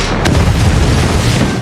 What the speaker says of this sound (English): There's no chance of surviving this kind of explosion.